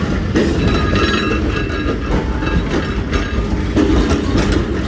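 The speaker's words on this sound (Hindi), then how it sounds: "कि वन अप खैबर मेल है। 6 घंटे लेट आई है जी।" The Khyber Mail passenger train rolls past close by at a station, a loud continuous rumble with rhythmic clickety-clack of wheels over rail joints and faint metallic squeals.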